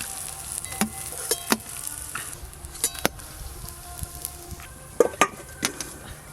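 Food fries in a pan at a moderate sizzle, broken by repeated sharp clinks and scrapes of a utensil against cookware, with no speech.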